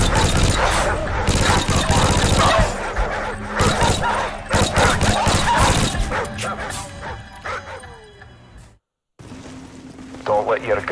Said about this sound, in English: Leave it alone. It's a wild dog. Pooch doesn't look too friendly.